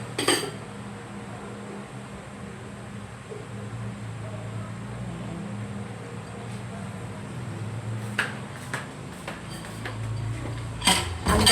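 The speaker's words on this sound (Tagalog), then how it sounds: "maghugas na muna ako ng plato bago magsundot" Plates being washed by hand on a cold evening, with soft clinks of dishes and cutlery over a steady running-water hiss, a few sharper knocks near the end.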